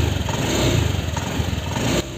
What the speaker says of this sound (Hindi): जैसे ही मैं एक सेल्फ मारूँगा, ये देखिए गैस, एकदम से ये स्टार्ट हो जाएगी।